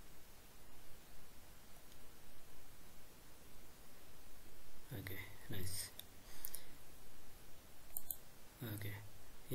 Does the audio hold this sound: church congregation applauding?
no